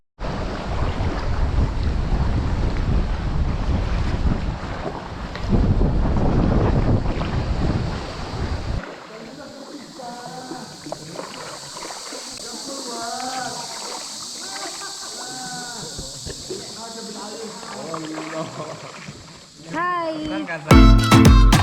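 A boat rides near the Phi Phi islands in Thailand, with loud wind buffeting and engine and water rush at first, then a quieter stretch where a voice speaks over the motion and splashing.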